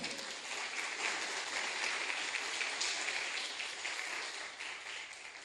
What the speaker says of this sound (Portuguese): Vamos aplaudir o Espírito Santo.